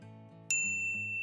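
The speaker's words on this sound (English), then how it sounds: "Can you find the bell?" A single bright bell ding rings out sharply and lingers with a clear sustained tone over a soft low hum.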